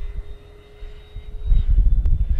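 A model airplane with full flaps deployed flies overhead, its engine a thin, steady drone at a distance, while wind buffets the microphone in low gusts that grow louder toward the end.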